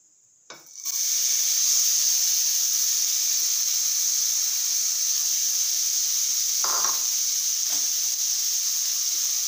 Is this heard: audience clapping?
no